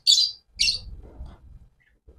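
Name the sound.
birds chirping at a bird shop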